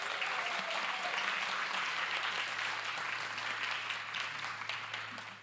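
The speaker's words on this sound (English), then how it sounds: "Can you give them a round of applause?" Sustained applause from an audience at a dialogue event on Indigenous knowledge systems, science and practices, steady dense clapping filling the whole stretch and tapering slightly at the end.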